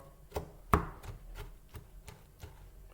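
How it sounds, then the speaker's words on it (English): A knife dices food on a board: half a dozen soft, irregular chopping taps, one noticeably sharper, heard close and quiet with no talking. "And then I take it and I'll make sure it's diced."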